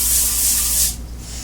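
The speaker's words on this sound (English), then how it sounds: "you need to get some nonstick cooking spray, and you need to spray your cookie sheet with some tin foil on it" Nonstick cooking spray hissing from an aerosol can onto a foil-covered cookie sheet: a close, steady spray for about a second, then cutting off to a quieter hiss.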